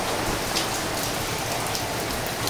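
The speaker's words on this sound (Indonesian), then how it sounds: "Wes hujan terus." Steady, heavy rain falling outdoors, a dense continuous hiss of drops at constant loudness with no voices.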